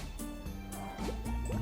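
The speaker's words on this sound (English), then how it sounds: "start pouring hot water in this measuring glass" Hot water poured into a measuring glass while making cherry jelly: a soft, close trickle and splash with rising gurgling pitches as the glass fills, faint and continuous, with no talking.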